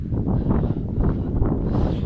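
Low, rumbling wind from a storm buffets the microphone in a continuous roar, strong and close, with no speech.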